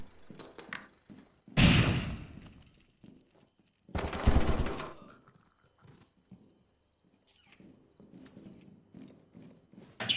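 Gunfire in the Zero Hour tactical shooter game, two loud bursts of shots about two seconds apart between quieter stretches of faint clicks and movement.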